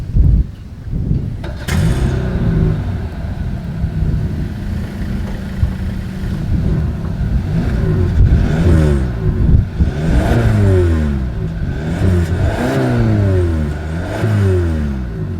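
A 2024 Hyundai Sonata engine starts and idles with a deep exhaust rumble, then is revved repeatedly, each rev rising and falling loudly close by.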